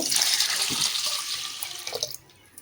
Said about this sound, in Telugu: ఒక చెంబు నిండా వాటర్ పోసుకున్నాం కదా